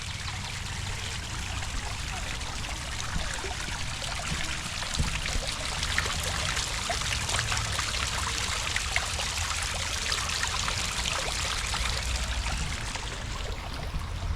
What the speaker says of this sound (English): Let's check out the waterfall here.